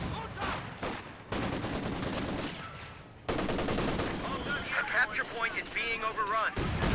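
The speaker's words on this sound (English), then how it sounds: "Oh, the mortar." Mortar shells and gunfire boom through a Company of Heroes 2 battle, a dense run of blasts and crackling shots with a heavy burst partway through, while a commentator talks over the fighting.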